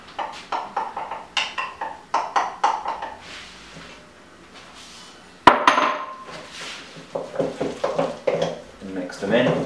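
Eggs are mixed into warm mashed potato in a bowl for potato gnocchi, giving a run of quick, repeated clinks and taps of a utensil against the bowl, then a sharp knock and more scraping and clinking near the microphone.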